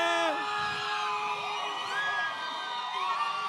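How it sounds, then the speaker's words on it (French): An audience in a hall at a LAN festival closing ceremony cheers, whoops and shouts loudly in a sustained, dense roar, with high yells rising over the crowd noise. "Hey, ça crie fort par là, ça!"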